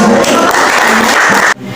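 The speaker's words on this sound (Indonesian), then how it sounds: "Ya, tepuk tangan untuk." Classroom applause as students clap for a discussion group coming forward, loud and dense, cutting off abruptly near the end before quieter room sound.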